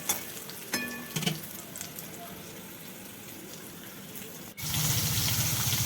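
Bitter gourd fries in oil with a continuous sizzle, broken by a few clinks of a utensil early on, then a louder, fuller burst of frying near the end.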